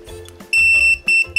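Close, piercing electronic beeps from a wireless queue pager repeat in quick bursts, preceded by a soft buzzing rattle as the pager vibrates.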